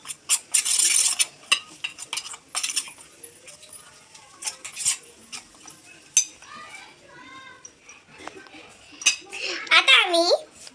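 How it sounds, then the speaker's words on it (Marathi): A spoon stirs fish fry masala in a small bowl, clinking and scraping in irregular bursts, with a voice talking and babbling over it and a brief squeaky rising tone near the end. "हे मिक्स करत आहोत"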